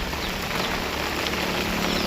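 Steady, dense rain pours down outdoors, a continuous hiss of drops striking surfaces with no pauses and no voices.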